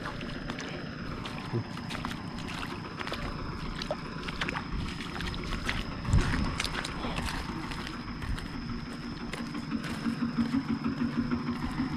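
A small boat's engine chugs steadily and fairly close, a continuous low rumble running throughout with no talk.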